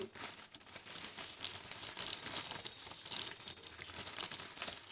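Crisp crinkling and crackling of a kite's plastic cover as a hole is worked through it, a close, continuous rustle with small sharp snaps.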